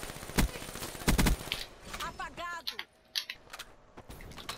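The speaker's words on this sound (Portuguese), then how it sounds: "Olha, é inimigo essa sentry gun." Sentry gun firing in Call of Duty Black Ops 3: sharp, loud bursts of rapid shots separated by short pauses, with quieter clicks and game effects in between.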